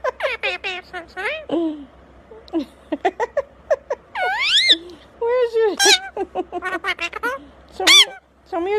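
A pet parrot chatters and squawks close up in a rapid run of chirps, rising whistles and honk-like calls, with a person talking to it over the top.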